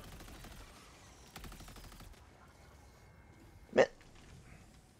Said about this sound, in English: I think your auto cannon's doing in work